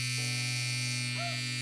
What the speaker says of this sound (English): turn the clipper to a softer position and remove all of the hair up to that line